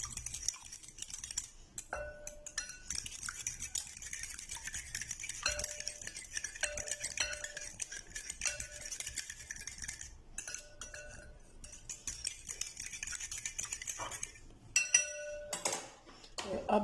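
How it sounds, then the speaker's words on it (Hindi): A metal spoon clinks and scrapes in a bowl while dry spices such as chili, garam masala and coriander powder are stirred together, with light, irregular taps over a quiet room. "सारी चीज़ों को आप मिक्स करेंगे।"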